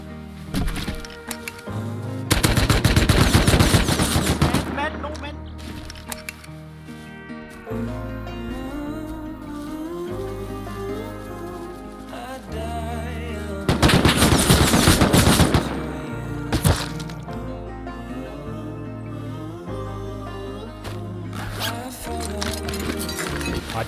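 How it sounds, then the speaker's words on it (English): Gunfire in the survival video game Rust, two long loud bursts of rapid automatic shooting separated by quieter stretches of game sounds and music-like tones, with some talk in the background. "I couldn't see what I'm shooting at."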